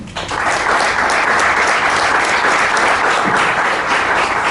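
Loud, sustained applause from an audience welcoming a book author at a political talk event, dense and continuous throughout with no voices over it.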